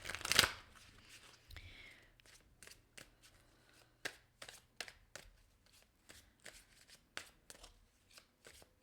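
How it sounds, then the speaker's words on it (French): Oracle cards from the Arrows of Love deck are shuffled and drawn, with a soft rustle, then a run of light papery flicks and taps, close and quiet, with faint voice underneath. "Je vais sortir juste une carte Arrows of Love pour le week-end."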